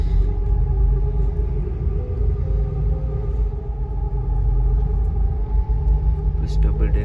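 Rosalia Indah double-decker bus rolling into Bawen bus terminal, heard from inside as a heavy, steady engine rumble throughout, with faint voices underneath.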